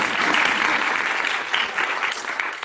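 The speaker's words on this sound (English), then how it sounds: "yeah, you can clap" Dense, even clapping from a room of teachers and staff at a school district presentation, loud and continuous for a couple of seconds before easing slightly.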